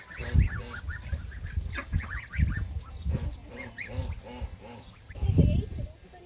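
Geese honk repeatedly in loud bursts at an ostrich farm, with other fowl calling nearby and faint voices in the background.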